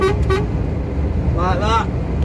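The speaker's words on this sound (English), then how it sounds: "When I'm happy, I like to pat my horn." A truck's horn gives two short toots and then a longer blast over steady road and engine rumble from a 50 mph road.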